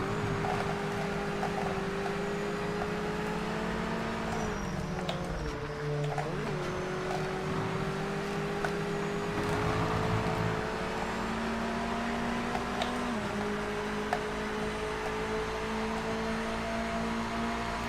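A Mazda MX-5 race car in the Project Motor Racing video game holds a steady, droning engine note that dips and climbs slightly through shifts and corners, loud and continuous throughout.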